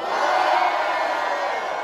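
A crowd at a Brazilian rap battle final cheers for contestant Maria, a brief loud unbroken roar of shouting voices at close range.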